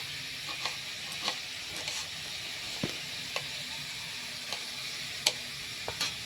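Spices and green chillies sizzling in hot oil in a pan while cooking aloo chop, a steady soft hiss with scattered small pops and ticks, moderately quiet and with no talking.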